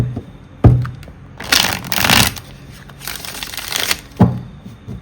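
A tarot deck being shuffled in a few quick riffling bursts, with sharp taps of the deck against a surface at the start and end, close and clear.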